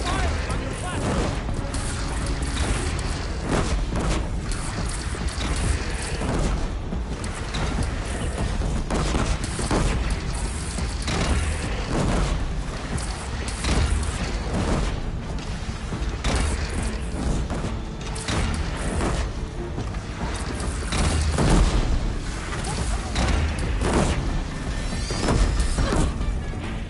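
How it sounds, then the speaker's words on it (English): A Deathbringer machine in Horizon Zero Dawn Remastered firing explosive shots, a continuous barrage of loud booms and crashing impacts layered with mechanical clatter, relentless and close for the whole stretch. "Deathbringer fire incoming!"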